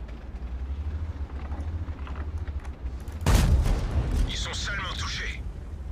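World of Tanks self-propelled artillery shell lands with a sudden heavy boom-like burst that rings on briefly, following a steady low engine rumble.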